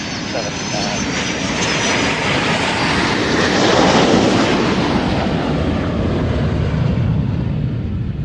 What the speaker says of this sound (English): painting the biggest Italian flag in the sky and coming into land